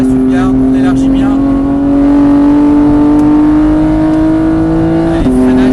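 Car engine on the Mireval racing circuit accelerating gently, a steady loud drone with a slowly rising pitch held throughout, with a brief shift near the end.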